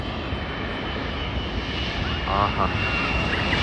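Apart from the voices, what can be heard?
Airbus A380 jet approaching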